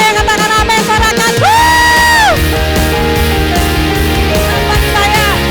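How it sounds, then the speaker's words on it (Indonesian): A church congregation shouts and cheers for God during a worship service, loud sustained yelling and whooping over music with a long held tone from a singer or instrument. "Mari kita mau lebih lagi bersorak-sorak bagi Tuhan"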